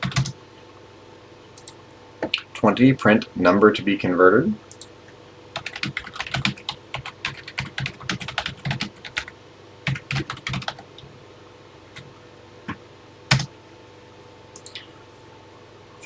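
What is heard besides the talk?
typing on TI-99/4A computer keyboard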